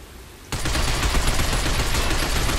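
Video game gunfire erupts after a brief quiet moment and becomes a loud, sustained, dense barrage of rapid shots that continues to the end.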